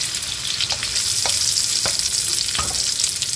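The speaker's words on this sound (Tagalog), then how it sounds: "So, isauté lang natin yung onion hanggang sa maging translucent siya katulad niyan." Chopped onion sizzles in a hot pan for Filipino ginisang gulay with pork, a close, steady frying hiss broken by several soft scrapes as it is stirred.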